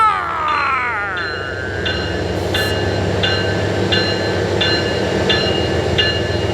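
A freight train of autorack cars loaded with new automobiles rolls past loud and close, a steady rumble with a long squeal of wheels and repeated metallic clicks over the rail joints.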